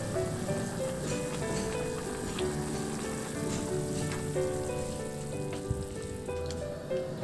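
Two chicken quarters, each cut into four, boil in a pot with a steady, even bubbling hiss that holds throughout.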